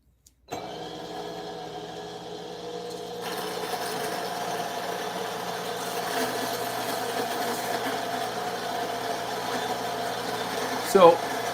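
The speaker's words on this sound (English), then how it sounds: "this particular grinder has been going a little bit slower since I put in the aftermarket Burrs" A coffee grinder fitted with aftermarket burrs starts up abruptly and runs steadily through whole beans, a continuous whirring motor drone with a brief louder burst near the end.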